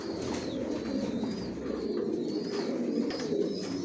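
Grizzle racer pigeons in a loft, including a hen sitting on eggs in a clay pot, give soft, steady cooing with a few faint chirps, all at a continuous moderate level throughout.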